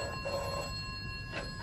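A telephone rings in a mystery radio play, a steady electronic ring sounding in bursts against a quiet room tone, moderately loud and alone with no voices.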